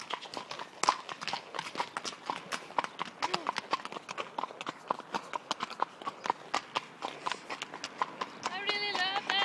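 Horses' hooves clip-clop on a road in a steady, close, rhythmic string of sharp knocks. A brief tonal animal call rises near the end.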